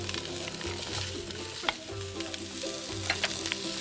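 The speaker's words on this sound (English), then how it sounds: "Hot oil. Onions in. I'm going to be adding all my aromatics now. Carrots. Leeks." Onions, carrots and leeks frying in hot oil for an oxtail stew, a steady broad sizzle with periodic stirring scrapes and a few sharp clinks of a utensil against the pan.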